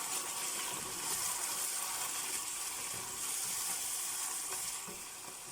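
Egusi soup with spices and a seasoning cube stirred in a pot, giving a soft, continuous sizzling and wet swishing that stays steady and faint, with no talk over it.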